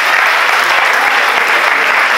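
An audience applauds with dense, steady clapping that fills the whole moment at close range, without pause.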